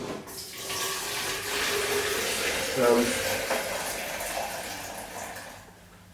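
Film developer liquid pours out of a developing tank in a steady, splashing stream like running water, lasting several seconds while a person talks over it.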